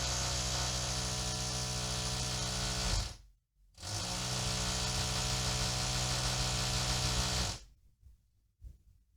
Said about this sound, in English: that's my neighbor drilling the wall